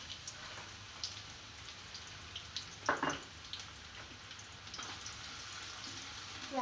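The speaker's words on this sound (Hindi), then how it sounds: "अब इसी ऑयल के अंदर मैं प्याज डाल रही हूँ" Onions dropped into hot oil left over from frying bitter gourd, a steady soft sizzle and spatter with a few louder crackling bursts, close and alone.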